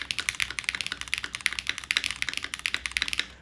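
Typing on a mechanical keyboard fitted with a Nixie spacebar soldered into place. A rapid, steady run of crisp, close clacks includes some brighter, louder keystrokes, with no talking over it.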